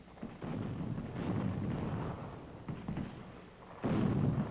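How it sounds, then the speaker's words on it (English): French artillery bombarding the naval base of Toulon in August, a distant, continuous rumbling roar of gunfire with swelling booms, the heaviest near the end. "French artillery pounds Toulon prior to the fall of the naval base"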